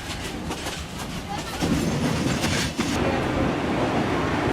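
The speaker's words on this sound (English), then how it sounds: "15 hours in this train" A passenger train on the way to Mandalay rumbles steadily along its rails, a close, continuous roar with faint rhythmic clatter inside the carriage.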